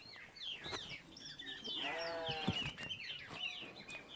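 A sheep bleats in a wavering, drawn-out cry, close and clear, with a few shorter bleats before and after the main call against a quiet outdoor background.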